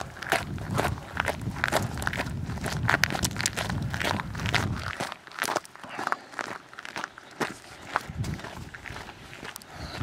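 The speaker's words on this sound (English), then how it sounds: "I don't know if you can hear my feet on the chippings here." Brisk footsteps crunch on loose stone chippings while climbing a hill outdoors on a long-distance walk, a steady quick rhythm of close crunching steps that grows quieter and sparser partway through.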